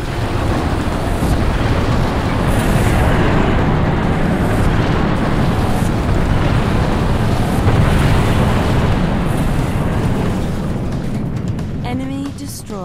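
An orbital MAC cannon strike explodes in the Halo Wars video game, a loud, sustained roaring blast of rumbling debris that fills the whole stretch and fades slightly near the end.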